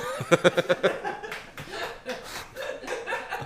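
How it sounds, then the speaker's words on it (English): A few sharp hand claps land in a quick burst near the start, close and fairly quiet, then give way to soft laughter and murmuring voices in a radio studio. "That was Jenny applauding"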